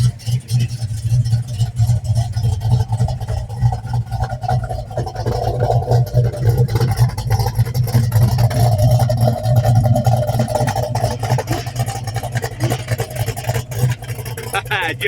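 A 1970 Plymouth Cuda's 440 V8 with EFI idles loudly and steadily, a deep rumble with a lumpy low throb running throughout.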